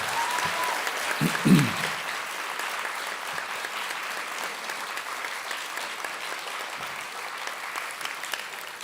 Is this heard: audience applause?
yes